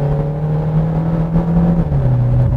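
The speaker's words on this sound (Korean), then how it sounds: "에코 모드에서 살짝 스로틀 밟아볼게요." A 2026 Kia K5 with a naturally aspirated engine, driven in eco mode under light throttle, gives a steady, close engine drone whose pitch sags slightly near the end, with no talking over it.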